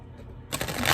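Tarot cards being shuffled, a quiet lead-in followed by a sudden close riffle of cards lasting about half a second, loud and crisp.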